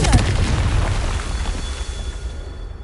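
A Confringo fire spell bursts in Hogwarts Legacy as one loud, booming explosion that rolls into a sustained rumbling roar and slowly thins out.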